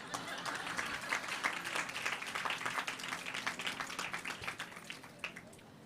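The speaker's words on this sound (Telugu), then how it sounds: "ఎల్లుండని కొట్టండి చప్పట్లు కనీసం" An audience at a religious gathering claps in sustained applause, with dense overlapping claps that hold steady for several seconds before easing slightly.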